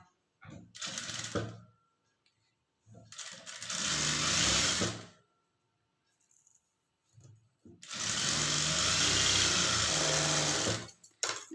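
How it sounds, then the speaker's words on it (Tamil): A sewing machine stitches a blouse seam in three bursts of rapid, close clatter, the last and longest lasting about four seconds, separated by pauses with small handling noises. "இதில் வந்து ஒரு தையல் தான் போடுறேன்"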